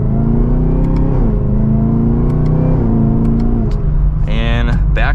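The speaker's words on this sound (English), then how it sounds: "And we'll give it another acceleration." A 2023 Chevrolet Camaro ZL1 Convertible accelerating, the engine and exhaust climbing in pitch through a couple of gear changes, loud and close from inside the car, ending in a brief whooshing burst.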